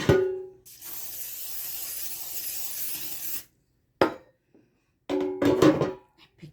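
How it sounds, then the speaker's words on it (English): Cooking spray hisses onto a baking tray in one long continuous burst lasting a few seconds, then two short spurts follow after brief pauses, close and fairly loud in a home kitchen. "I grease my baking tray."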